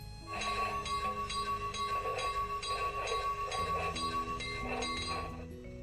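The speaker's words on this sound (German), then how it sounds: "Läutewerk." A sound-decoder bell on an LGB 995001 model steam locomotive rings in a steady, regular rhythm for about five seconds over a low mechanical hum, close and even with no talk.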